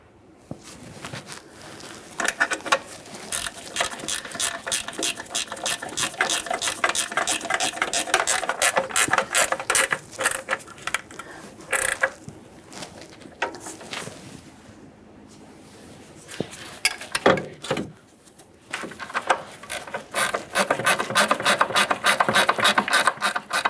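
Rapid ratchet clicking in repeated bursts as upper control arm bolts are tightened on a 2006-2012 Ford Fusion front suspension, close and fairly loud, with brief pauses between runs of clicks.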